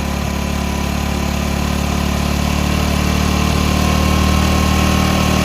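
A motorcycle engine idles steadily and close during an RPM screw adjustment, a continuous loud droning putter with an even rhythm throughout and no speech.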